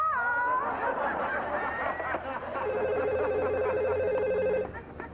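A telephone rings in a home, with repeated electronic trills in bursts, moderately loud, alongside a faint chuckle.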